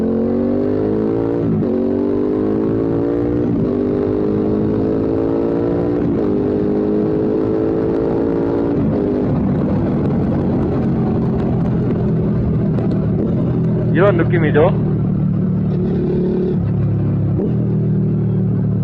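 A Suzuki SV650 two-cylinder motorcycle engine revs repeatedly in rising pulls with a deep, punchy throb, then idles. A short spoken phrase comes near the end.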